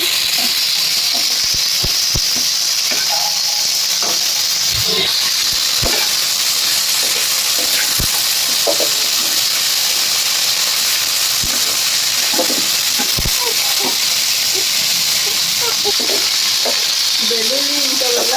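Cumin and other ingredients for radish chutney frying in a pan, giving a loud, steady sizzle and hiss throughout, broken by scattered scrapes and clicks of stirring, with no talking.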